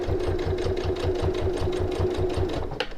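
A sewing machine runs a short burst of locking stitches on a reversible tote bag, its rapid even needle clatter steady and close for a few seconds before stopping.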